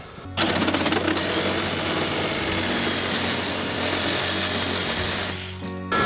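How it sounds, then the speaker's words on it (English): A power saw cuts through a wooden 2x4 supporting a power pole beside a woodshed, running loud and steady for about five seconds with a constant motor whine before stopping abruptly. "I'm just going to cut the top of that 2x4 that's holding up the power pole."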